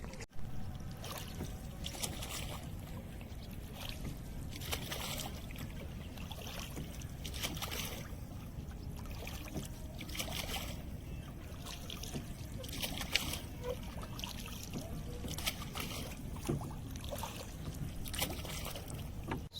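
A boat on the Yamuna river gives off a steady, close rumble with lapping, trickling water that runs through the whole stretch, and faint voices come and go beneath it.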